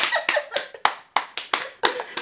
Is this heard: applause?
yes